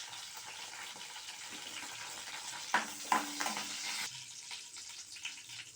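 Mustard seeds, curry leaves and dried chillies fry in hot oil with a steady close sizzle, broken midway by a few sharp pops and crackles, then settling back to a softer hiss.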